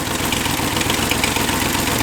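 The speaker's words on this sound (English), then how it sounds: "is that the sound of like the pistons just clattering?" A 283 small-block Chevy V8, torn down and running with one cylinder head, rumbles loud and close with a dense, rough clatter from the pistons and no pauses.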